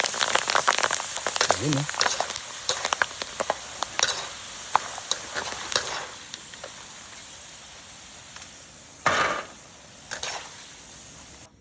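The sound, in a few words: frying shell macaroni chicharon in oil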